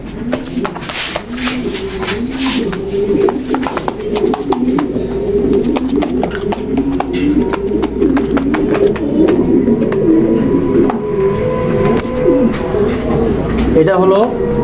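Female pigeon of a Proben line, released at a loft, giving repeated rolling coos in steady rhythm close by, with intermittent wing flutters and clicks, over a continuous background murmur.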